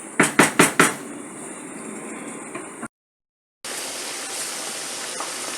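Pork ribs fry in rendered fat after the water has boiled off, giving a steady, hissing sizzle. A few sharp knocks come first, and the sound briefly cuts out partway through.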